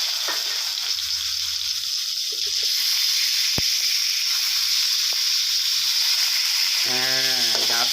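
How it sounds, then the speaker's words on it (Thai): Pork belly stir-frying in a pan, a constant bright sizzle with occasional clinks and a brief voice near the end. "จากนั้นก็ใส่หมูสามชั้นลงไปผัดนะครับ"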